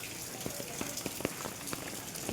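Rain falls steadily in Alibag during a rainy day out, a soft constant patter with scattered individual drops tapping close by, fairly quiet and without voices.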